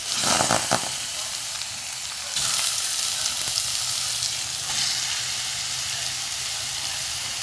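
Squid pieces hit hot oil in a pan for a ginataang pusit dish, sending up a loud, steady hissing sizzle after a few clattering drops, with bursts of fresh spattering as they are stirred.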